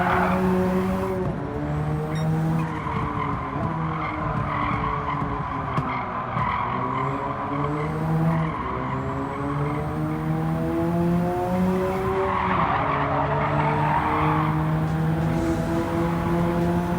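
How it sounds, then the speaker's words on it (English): Engine of a Mines BNR34 GT-R N1 in Gran Turismo 7 drones steadily with shifting pitch while the tyres skid and squeal almost throughout, loud and close with no talking. "Next up is the Mines BNR 34 GTR N1, which will cost you a whopping 3 million credits."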